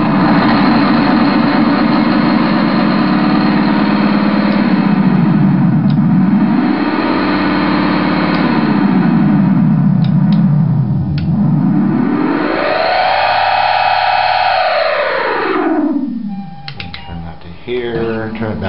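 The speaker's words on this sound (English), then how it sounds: "you can speed it up here, do some motor effects, turning it off and on" A Binson Echorec tape echo unit bends its echoing tones as its motor is slowed, sped up and switched off and on, giving loud swooping pitch dives and rises that end in a sputtering wind-down.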